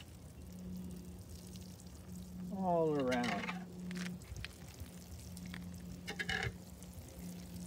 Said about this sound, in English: So let's give this some water.